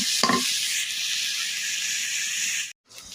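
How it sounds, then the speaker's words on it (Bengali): Prawns fry with chillies and onion in a pan, giving a continuous bright, hissing sizzle close up, with a brief stir near the start and an abrupt cut-off just before the end. "এই চিংড়ি মাছগুলো দিয়ে কিন্তু একটু ভেজে নিব"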